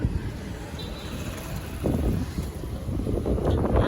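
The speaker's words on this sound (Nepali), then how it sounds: "यस्तो हावा लागिरहेको छ।" Wind blowing outdoors near a hospital emergency ward, a rough low rumble of gusts buffeting the microphone, swelling stronger toward the end, with no talking.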